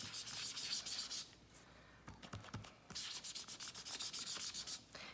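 An ink dauber rubs over embossed paper in a Bible journaling page, making quick rhythmic scrubbing strokes, close and fairly quiet, in two bursts separated by a short pause with a few soft taps.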